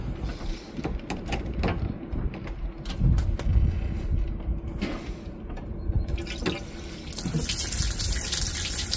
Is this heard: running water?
yes